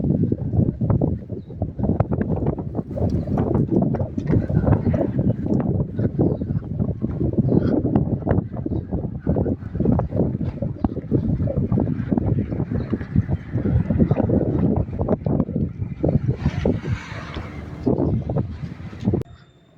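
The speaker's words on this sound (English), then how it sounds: "I've not had any wind yet in Afghanistan, but this time, very much wind." Strong wind in Herat, Afghanistan buffets the microphone in continuous low, rumbling gusts, loud and unbroken for the whole stretch.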